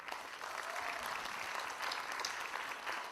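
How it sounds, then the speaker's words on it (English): An audience at a career conference keynote claps steadily, a dense even patter of hands heard from a distance at low level throughout. "So let's give a round of applause to all of them today."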